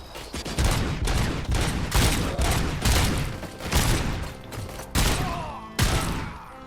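Video game gunfire in Robocop: Rogue City: loud, close bursts of shots in a rapid fusillade, with about seven heavy volleys and thumping impacts over roughly seven seconds.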